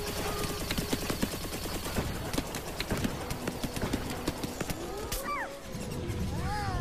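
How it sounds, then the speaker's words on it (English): Rapid, steady gunfire in the Plants vs. Zombies: Garden Warfare 2 video game, a dense string of sharp shots with game effects and a rising whoosh layered over the fire. "they're kind of shooting at us from this way"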